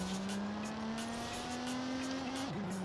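A car engine in the video game Forza Horizon 5 holds a steady, fairly faint drone at constant revs, dipping briefly near the end, with no talk over it.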